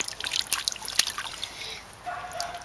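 Water splashes and trickles over the edge of a backyard swimming pool, a close, bubbly spill that eases off, then a voice is heard briefly near the end.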